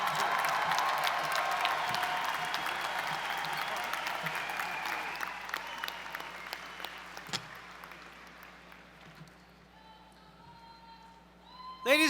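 A large audience applauds graduates at a college of engineering commencement, with sustained clapping that slowly thins out and fades to scattered claps, followed by a speaking voice near the end.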